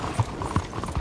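A horse's hooves clip-clop in Red Dead Redemption 2, three soft, evenly spaced thuds over a low rumbling background.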